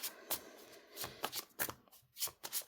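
Tarot cards being shuffled by hand, mixed both upright and reversed, in a series of soft, crisp riffles and slides at close range.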